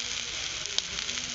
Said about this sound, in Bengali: বড়া ভাজার জন্য বড়াগুলো সব কড়ার মধ্যে দিয়ে দিয়েছি।